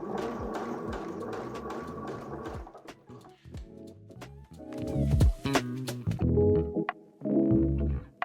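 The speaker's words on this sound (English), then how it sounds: "I'm just understitching the binding to the seam allowances, just gently pulling the binding away from the yoke neckline pieces as I go" A domestic sewing machine understitches dress binding to seam allowances at the yoke neckline, running in short bursts of rapid mechanical whirring and needle clatter with brief pauses between runs, close and clear, with no talking.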